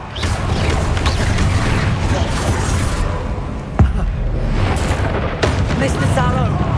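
A fire spell cast in the Hogwarts Legacy video game during a busy magical duel, a dense roaring rush of flame and blasts filling the whole stretch, with a sharp bang near the middle and another burst shortly after.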